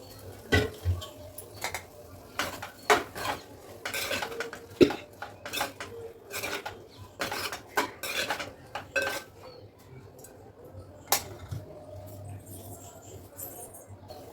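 Rice grains being stirred in a metal pot for mealmaker (soya chunk) pulao, giving repeated scraping clinks and clatters of a spoon against the pan, fairly close, with no talking.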